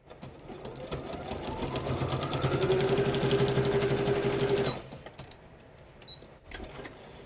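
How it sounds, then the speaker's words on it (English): A sewing machine stitching envelopes into journals runs steadily, its rapid needle chatter and motor whir continuing for several seconds before stopping, leaving a few faint clicks. "I'm gonna zip this on the sewing machine."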